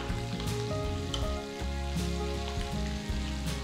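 Asafoetida and curry leaves sizzle and crackle in hot ghee for a tempering, with a steady close frying hiss and light stirring throughout and no talking.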